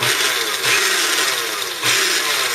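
A blender pulses dairy-free pesto made with cheese, giving a loud motor whir that swells and dips in short bursts, with no talking.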